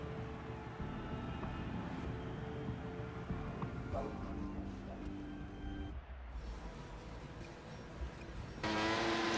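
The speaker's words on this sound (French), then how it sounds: "il pleut des trombes en Australie à Melbourne" Heavy rain in an F1 racing video game at the Melbourne Grand Prix, with an Alpine Renault in qualifying: a steady, dense hiss of rainfall and spray under a low engine drone, loud and continuous throughout.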